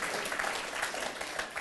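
A studio audience on a German TV car show, the CarManiac Show, claps in a brief burst of steady, fairly loud applause.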